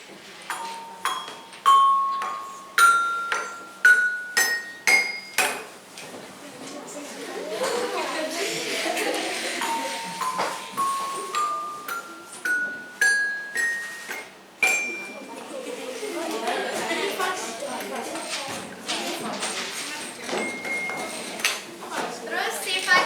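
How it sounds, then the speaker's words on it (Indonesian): Homemade percussion instrument of graded metal plates, small ones ringing high and the largest low, struck with a stick in a primary school classroom: a string of bright clinking tones stepping through pitches, with soft chatter between strikes. "lempeng yang kecil itu suaranya tinggi dan lempeng yang paling besar itu suaranya rendah"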